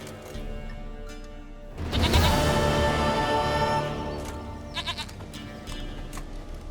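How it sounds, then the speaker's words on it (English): A goat in The Witcher 3 bleats loudly in a game scene, a sustained bleat midway followed by a couple of shorter calls over a steady background hum, with no talking. "Goat of mine, dearest,"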